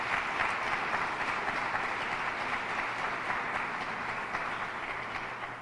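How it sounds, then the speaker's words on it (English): Sustained applause from a large crowd, steady dense clapping filling the whole stretch without a break. "Give her a round of applause."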